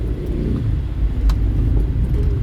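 Low, steady engine rumble heard from inside a moving car, a continuous deep drone with faint rattles and a brief higher click, no talking.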